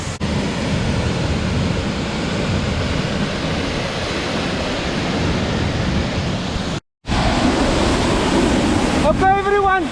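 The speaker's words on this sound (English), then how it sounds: "My first time ever, I'm standing behind a waterfall. You can hear that." Chania Falls in Aberdare National Park, Kenya, heard from behind the falling water: a loud, unbroken rush of water that fills the sound, interrupted once by a brief cut.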